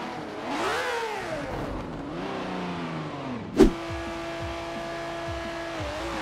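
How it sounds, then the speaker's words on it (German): A Ferrari 512S V12 race car in Forza Horizon 4 accelerates hard, its engine pitch climbing through gear changes, with a sharp shift or impact thump partway through, then a steady high drone as it pulls away. "Und da schießt der Ferrari auch schon auf seine schnelle Runde los."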